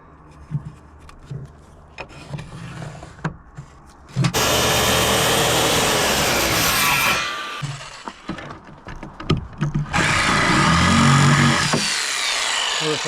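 Power saw cutting wood for a primitive rustic firewood box, two loud sustained cutting passes with a short pause between, preceded by quieter handling knocks and clatter.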